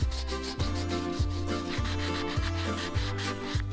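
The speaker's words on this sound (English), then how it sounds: "remove large scratches and burrs with an emery sponge, giving the blanks their final look" Wooden blanks for a fishing rod holder being sanded with an emery sponge: steady, rhythmic back-and-forth rubbing strokes roughly every half second, close and fairly loud, with no voices.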